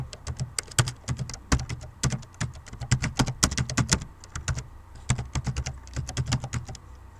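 Rapid, uneven keystrokes on a computer keyboard, clattering in bursts with short pauses between, close and fairly loud with no voices.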